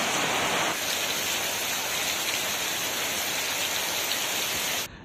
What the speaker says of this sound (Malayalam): ഓഗസ്റ്റ് 1-ാം തീയതി മുതൽ ഇവിടെ മഴയാണ്, കനത്ത മഴയാണ്